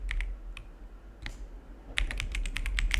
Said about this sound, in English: Now we've typed in ls.